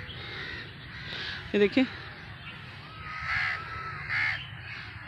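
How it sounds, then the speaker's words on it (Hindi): Crows perched in a tree caw where food has been put out, giving loud, harsh calls in short bursts, some close by, while someone talks over them. "कौवे आके बैठे हुए हैं, खाना डाला है तो सब खाने के लिए आए हुए हैं।"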